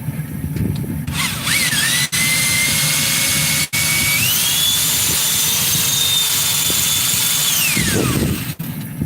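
A drill press bores a hole with a loud, steady whine that rises in pitch as the bit spins up, holds for several seconds, then winds down, with a few sharp clicks along the way.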